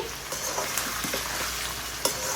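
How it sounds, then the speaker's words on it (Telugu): Thinly cut tomato pieces fry in a pan of mixed vegetable curry, a continuous close sizzle broken by a few soft spoon scrapes and stirring knocks, with no talking. "సన్నగా కట్ చేసుకున్న టమాటా ముక్కలు కూడా వేసుకొని"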